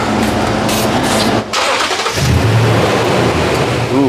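2008 Toyota Tundra 5.7L V8 cranking over, catching with a brief rev and settling into a steady, close idle rumble, with no talking.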